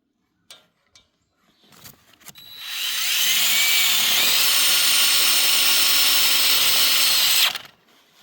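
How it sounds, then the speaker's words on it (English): A power drill drives tech screws into a rollup door handle on a 20 x 20 high tunnel, one loud continuous whine lasting about five seconds after a few handling knocks, then winding down. "I'm going to put 2 tech screws in it"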